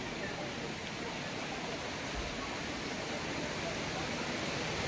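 Small waterfall in Darjeeling, heard as a steady, even rush of falling water filling the whole stretch at constant loudness, with no other sounds standing out.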